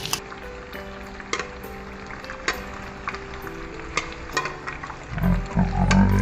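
Yogurt being stirred into beef biryani cooked with mustard oil in a pot: close, repeated scraping and clinking spoon strokes over a soft sizzle, with a louder bubbling rumble toward the end.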